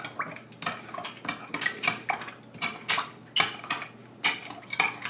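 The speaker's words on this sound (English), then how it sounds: "We'll stir this up." A spoon stirs orange Tang drink mix from an MRE, clinking steadily against the container in a quick, regular rhythm of close, bright metallic taps.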